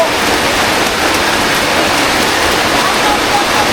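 Heavy rain pours down outdoors on a muddy, flooding road, a loud, dense, steady hiss that fills the whole stretch without any break or voice.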